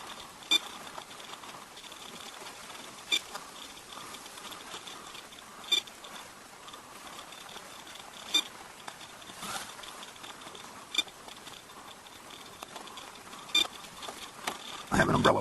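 Rain pattering on an umbrella during a hot morning rain in eastern Ontario: a soft, steady patter with scattered sharper drips and taps, fairly faint, with no talk over it.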